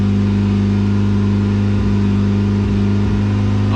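A freshly repaired car engine runs close by with a loud, steady idle hum, dipping and surging in a few short blips of revving; no talking.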